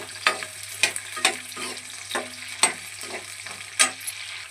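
Green chillies fry in hot oil while a spoon stirs them, giving a steady sizzle broken by repeated scraping strokes against the pan, close and fairly loud.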